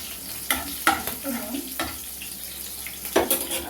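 Bottle gourd leaves and potato pieces frying in hot oil, stirred with a spatula that scrapes the pan several times at uneven intervals over a soft, continuous sizzle, close and clear.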